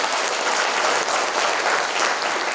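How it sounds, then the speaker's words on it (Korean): A crowd at a book launch event claps loudly on cue, a thick, steady roar of many hands, close and continuous from start to finish without speech. "공감하시면 박수 한번 부탁드리겠습니다"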